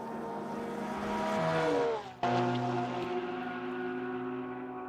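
A previous-generation BMW M4 GT4 race car at an NLS endurance race, its engine note rising loud and near, cutting sharply on a downshift, then pulling away at a steady high drone.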